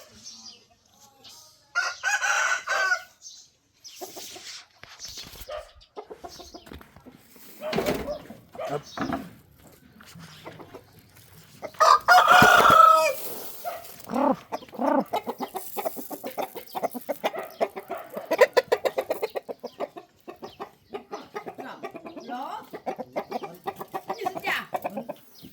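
Chickens cluck and crow in short irregular bursts close by, with occasional other noises between calls.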